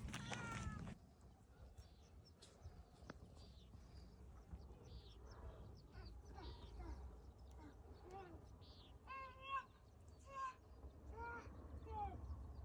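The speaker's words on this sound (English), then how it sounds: "Oh, there's some cats, Daddy." Cats meow on a Kansas farm, several short cries scattered across the clip at a moderate distance amid faint outdoor background noise, with a voice speaking at the start.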